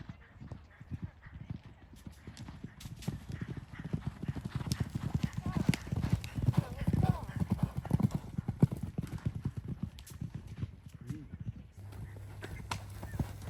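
Racehorses at a racing training centre, led up to an obstacle, their hooves clip-clopping in a busy, uneven rhythm that runs throughout, with people talking over it.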